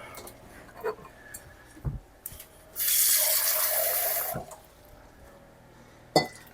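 Tap water runs steadily into a canning pot for a couple of seconds, a broad rushing hiss that starts and stops abruptly, with a few light clanks and knocks around it.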